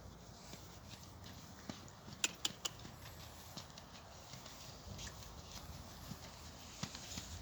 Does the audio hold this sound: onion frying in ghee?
no